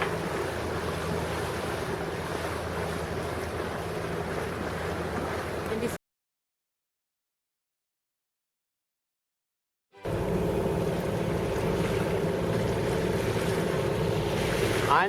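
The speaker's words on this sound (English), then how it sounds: "That's the ferry boat coming from Danao." Steady rumble of a passing ferry engine at sea off the Camotes Islands, over wind and sea noise, broken by a few seconds of complete silence before the same sound resumes.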